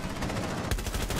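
Rapid automatic gunfire in the video game Rainbow Six Siege, a dense burst of shots with a sharper crack midway, loud and close, lasting about a second.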